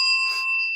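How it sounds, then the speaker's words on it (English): A single bright bell sound effect rings out, a clear metallic ding with a sustained, slowly fading tone, close and loud with no talking. "Oh, you did the bell."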